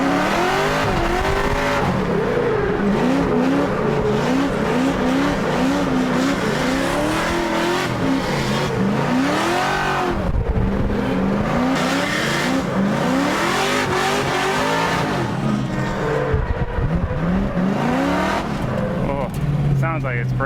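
A Mazda Miata with a swapped-in LS V8 revs hard and roars loudly for the whole stretch, its engine note rising and falling and breaking up, with a tire squeal partway through.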